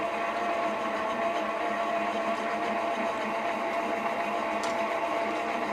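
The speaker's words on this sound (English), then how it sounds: "Of course, the ball winder is really cranking as well." A yarn ball winder and a cone winder spin fast together, giving a continuous, even mechanical whir and rattle at close range with no pauses and no talking.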